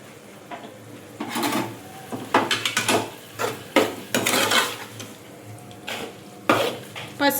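Keema being stirred in a pan with turmeric and salt, a utensil scraping and clattering in uneven bursts over a faint sizzle, close and fairly loud.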